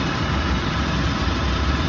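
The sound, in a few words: 2010 Toyota 4Runner engine idling in park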